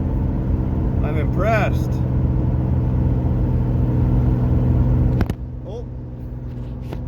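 A 1986 Camaro that sat parked for years idles with a steady, low droning rumble that stays constant, then drops slightly in level near the end. Someone speaks briefly over it.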